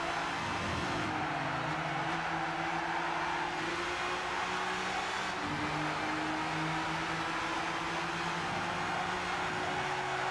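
Gran Turismo 6 race cars sweep through a corner in a tournament event, engines droning and rising in pitch as they accelerate, a continuous loud roar with layered tones from more than one car.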